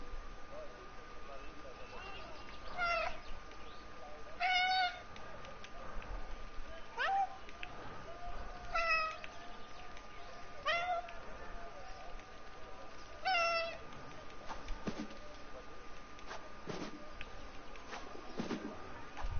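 A cat meows repeatedly in the video game 11-11: Memories Retold, short high cries spaced a few seconds apart over a steady low game ambience, with bird-like chirps mixed in.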